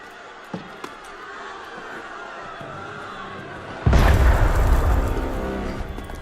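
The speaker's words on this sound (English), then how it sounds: "That was cannon fire." Cannon fire in Assassin's Creed Unity: a heavy boom erupts partway through, followed by a loud sustained rumble, with a couple of faint thuds earlier over a quiet ambient background.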